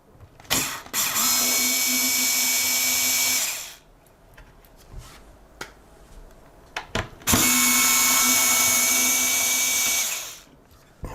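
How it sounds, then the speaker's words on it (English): A cordless drill backs out screws from AM4 motherboard cooler brackets in two loud, sustained whirring bursts of about three seconds each, separated by quieter clicks and handling noises. "I'm just going to grab my cordless here"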